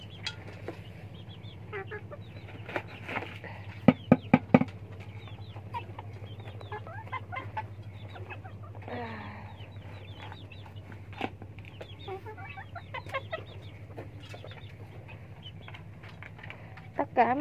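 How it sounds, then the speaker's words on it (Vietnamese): Four black bantam chickens cluck nearby in scattered, uneven bursts, with a few sharper calls standing out over a low steady hum. "đây là bốn chú gà tre của mình"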